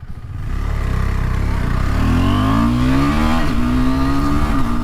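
A KTM 390 Adventure motorcycle revs hard off-road, the single-cylinder engine's pitch climbing steadily and loudly up close with no talking.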